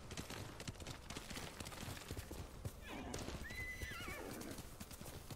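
A horse whinnies loudly over steady clip-clopping hooves in Ghost of Tsushima, with a busy game background throughout.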